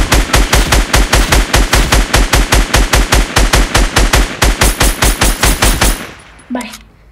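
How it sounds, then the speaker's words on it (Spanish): Rapid automatic gunfire in Fortnite on mobile, played on a Galaxy Note 9, hammers out in a long, even burst of loud, close shots for about six seconds, then cuts off into a short quieter tail. "Se están disparando."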